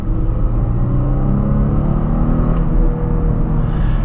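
A Porsche Panamera V6 engine in Sport Plus mode revs with a steady, muffled rumble and rising harmonic tones, loud and continuous throughout from inside the car, with no talk.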